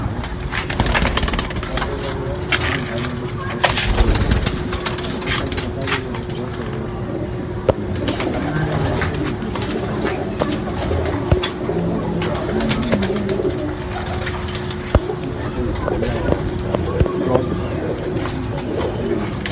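Racing pigeons coo and shuffle in a loft, a dense, continuous layer of cooing with wing flaps and knocks throughout.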